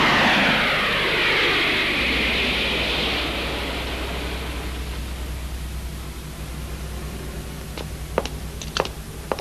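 An airplane approaching the runway for landing gives a loud broad engine roar. The roar is strongest at first, then fades to a steady rumble with a few sharp clicks near the end.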